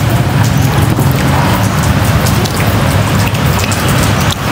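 Heavy rain pours close by in rural Soc Trang, Vietnam, near a riverbank, a loud, unbroken roar of drops drumming on a surface with occasional sharper splats.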